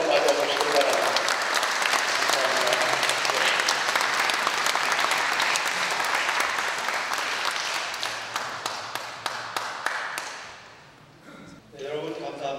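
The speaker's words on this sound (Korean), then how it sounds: "잠시 일어나서 큰 박수로 맞아주시기 바랍니다." Audience at a book launch for a Syngman Rhee documentary gives loud, sustained applause that thins toward the end into a few scattered individual claps, then fades as a voice begins speaking.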